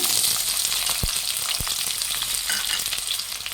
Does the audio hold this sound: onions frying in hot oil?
yes